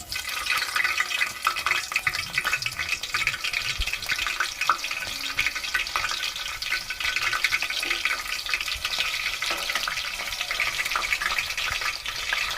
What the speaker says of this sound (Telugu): ఆయిల్ వేడెక్కిన తర్వాత పచ్చిమిర్చి వేసేయాలండి